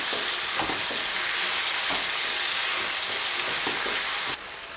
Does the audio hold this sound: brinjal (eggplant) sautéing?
yes